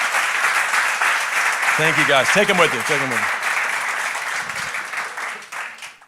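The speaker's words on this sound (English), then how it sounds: "y'all give these guys a big round of applause" A church congregation claps for returning mission trip members, a loud sustained round of applause that runs throughout while someone speaks briefly over it midway.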